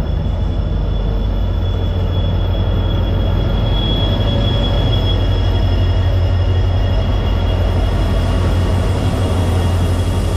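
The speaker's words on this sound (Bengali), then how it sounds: "আর এই হচ্ছে রামপুরহাট স্টেশন।" A train rumbles steadily through Rampurhat railway station, a loud, continuous low roar of wheels on rails with a faint high squeal, and no voices.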